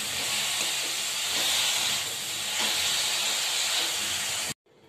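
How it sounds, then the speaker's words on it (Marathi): Radish greens and grated radish sautéing in a hot pan, a dense continuous hiss and sizzle close by that cuts off abruptly at the end. "आता ते टाकून देऊया आपण एकत्र। भाजी छान परतून घेऊया।"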